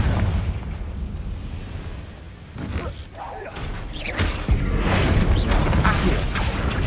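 A Confringo fire spell explodes in Hogwarts Legacy, with a mechanical creaking and a few booming blasts that swell into a loud, sustained roar toward the end.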